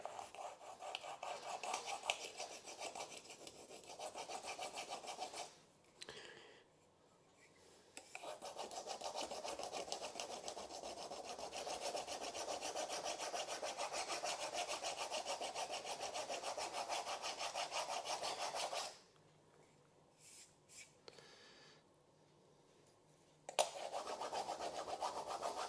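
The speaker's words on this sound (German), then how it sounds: "gehen damit über die gewachste Stelle und schaben oder hobeln den übrig gebliebenen Wachs Stück für Stück hinunter" A hand scraper shaving leftover wax off a waxed laminate floor, a steady close-up rasping scrape that runs continuously for long stretches with two brief pauses.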